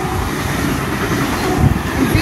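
A VZ train made up of cars V30 and V19, bound for Newcastle, rolls past platform 2 at Rhodes station, a steady loud rumble of wheels and carriages that swells slightly near the end.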